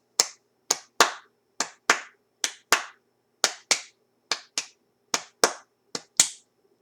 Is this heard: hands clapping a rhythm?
yes